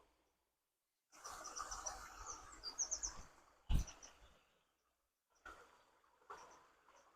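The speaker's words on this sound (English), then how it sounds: "Listen the sound, the birds and the water." Birds chirp in quick bright bursts over a soft rushing background of water, broken by a couple of sudden nearby knocks and rustles.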